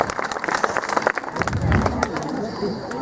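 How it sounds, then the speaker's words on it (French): Audience clapping at a medieval festival show in Pierrefonds after a performing tiger's act, scattered claps at first that build into fuller applause, with crowd noise and voices mixed in. "on peut lui applaudir"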